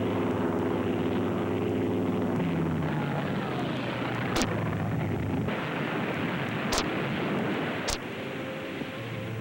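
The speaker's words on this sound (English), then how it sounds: "Here comes Pete Erickson, fast with his rudder control shot away." A WWII warplane roars in close with its rudder control shot away, a loud sustained engine drone with sharp cracks and bangs breaking through, like impacts or gunfire.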